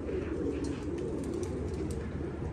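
Pigeons cooing steadily at close range in a loft, their low rolling calls layered continuously with no pauses and no talk.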